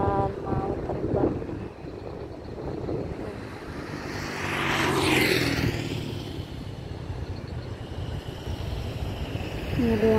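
An airplane's engines swell and fade at a distance as it turns onto the runway before takeoff at Soekarno-Hatta Airport, a moderate rumble over outdoor background noise.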